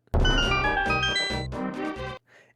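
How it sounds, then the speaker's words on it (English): The Legend of Zelda: A Link to the Past secret discovery jingle: a short, bright melodic jingle of several rising tones plays clearly on its own, ending abruptly. "This is the sound of discovering a secret."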